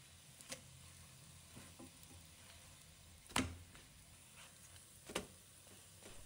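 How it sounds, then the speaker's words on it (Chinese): A potato and egg pancake fries gently in a covered pan. A faint, continuous sizzle is broken by a few sharp clicks and taps, with no one talking. "翻面后再次盖上锅盖，继续烙制2分钟，如此反复翻面几次。"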